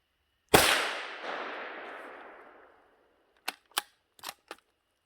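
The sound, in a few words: gunshot from a .22 magnum rifle with muzzle brake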